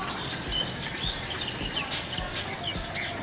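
Sunbird song, a run of quick high chirps and tweets repeating in a steady rhythm, fairly close and clear over a light background hiss.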